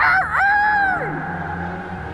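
A person imitates a rooster's cock-a-doodle-doo with a loud crow that echoes, a strong rising and falling call about a second long followed by a fading tail.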